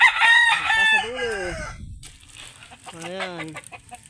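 Texas-breed roosters crowing on a farm: one loud crow opens the clip and trails off, then a second, lower crow rises from slightly farther away, with faint clucks between them.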